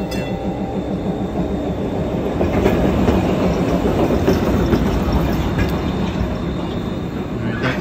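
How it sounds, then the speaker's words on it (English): A train rolls in with a steady rumbling roar and rhythmic clatter of wheels on track, loud and close throughout, building slightly as it arrives. "here comes the train, my friend."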